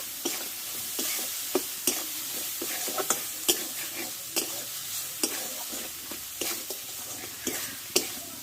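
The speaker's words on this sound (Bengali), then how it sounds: "এই মশলাটা ভালো করে একসঙ্গে কষে নেব" Turmeric and spice paste sautéed in a pan, a continuous sizzle broken by a regular rhythm of sharp spoon scrapes and taps against the pan, close and fairly loud, with no one speaking.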